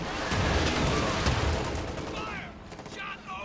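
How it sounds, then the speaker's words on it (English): Pack howitzer fire during a WWII strategy game battle, heard as loud, dense gunfire bursts and booms that crowd the first two seconds, then thin out to scattered sharper shots, with faint voices underneath. "Oh, that pack howitzer shot!"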